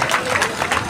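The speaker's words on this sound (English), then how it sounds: "We need more applause." Audience applause at a school's 60th anniversary public lecture, a steady wash of clapping from a crowd filling the whole moment without pause.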